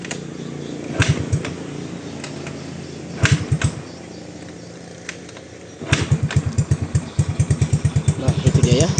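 A 2009 Yamaha Mio Smile scooter engine kick-started by hand, sputtering in short bursts before settling into a steady, close, pulsing idle, with a person talking over it.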